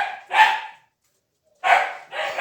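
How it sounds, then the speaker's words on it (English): A dog shut in its crate barks for breakfast: three loud, close, urgent barks, the first alone, then a gap, then two in quick succession. "That's Sophie in her crate, really barking, desperate for a breakfast."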